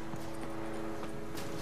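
Roach, a horse in The Witcher 3, walks with quiet, regular clip-clopping hooves under a faint game ambience, several distinct hoof strikes following one another.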